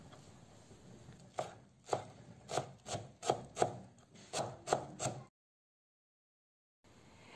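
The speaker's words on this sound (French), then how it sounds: "Je vais couper aussi la coriandre fraîche." Fresh coriander chopped with a knife on a board, about a dozen firm, thudding cuts in a loose rhythm, near and quiet, then a sudden short silence.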